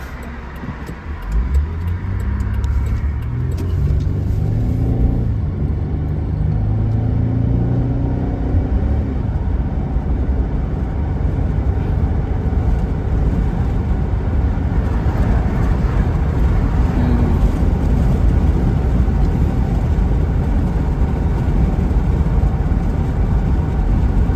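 A Buick Enclave engine revving while driving on the road, with a steady loud rumble and broadband road and tire noise throughout, and a slight rise in engine tone midway.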